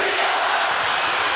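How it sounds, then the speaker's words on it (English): A basketball arena crowd at the 2011 Postseason WNIT championship game between USC and Toledo gives a steady, broad cheering roar from many voices, with no clear single shout. "listen to the crowd"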